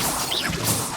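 In Hogwarts Legacy, a Confringo fire spell blasts into enemies with a quick whooshing crash and explosive burst, loud and brief with no talking.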